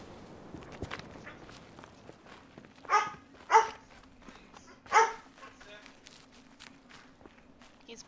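A dog in a video game barks three times in close succession, fairly near, over quiet footsteps and a faint low hum.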